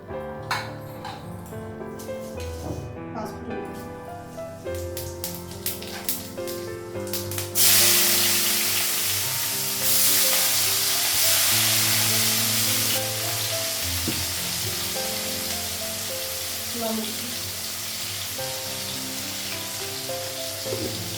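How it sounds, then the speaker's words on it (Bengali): Fish frying in hot oil: after a quieter stretch with faint tonal background sounds, a loud, dense sizzle surges in and hisses on continuously, close by. "মাছগুলো সব ভাজা হয়ে গেছে"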